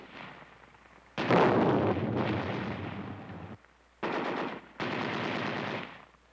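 Machine guns on an army infiltration and instinctive firing course in the Andes fire in rapid sustained bursts, four long volleys separated by brief pauses, loud and harsh with a slightly muffled old-film quality.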